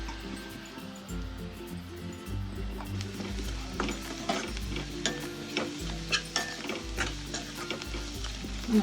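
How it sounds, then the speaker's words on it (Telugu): Onion pieces fry in oil with a steady sizzle, punctuated by frequent spatula scrapes and clicks against the pan, alongside a low background hum. "ఉల్లిపాయ ముక్కల్ని ఈ విధంగా వేయించుకోవాలండి."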